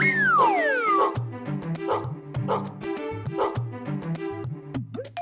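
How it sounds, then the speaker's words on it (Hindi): A dog barks repeatedly in a steady series of loud, sharp woofs. Several short yips and whimper-like sounds are mixed in, with a rising whine near the end. "अरे बाप रे, कुत्ता कुत्ता!"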